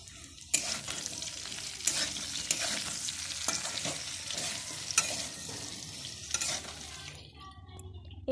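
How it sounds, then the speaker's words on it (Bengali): Potato and cauliflower frying with salt in a pan, a continuous sizzle broken by repeated scraping strokes of a stirring spoon, close and moderately loud, fading to quiet at the end. "লবণটা দিয়ে ভালোভাবে ভাজতে হবে"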